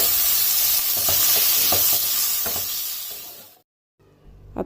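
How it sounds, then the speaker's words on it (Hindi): Boneless chicken strips fry in hot oil with garlic, ginger and chillies, a steady loud sizzle with stirring clatter for about three and a half seconds before cutting to silence, then a faint resumed hiss. "अब चिकन को मैंने 2 से 3 मिनट तक ऑयल में फ्राई कर लिया"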